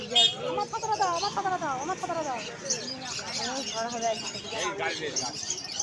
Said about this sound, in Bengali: কত রকমের পাখি।